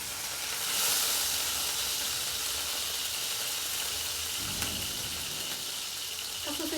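Sausage frying in a pan for an English breakfast, giving a steady, faint hiss and sizzle heard close up, with a few small pops near the end.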